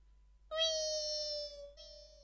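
A stage comedian imitates a cat at fish being cut, giving a loud, drawn-out meow, then a shorter second meow right after, in a quiet hall.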